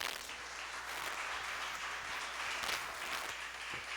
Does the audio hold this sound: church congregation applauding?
yes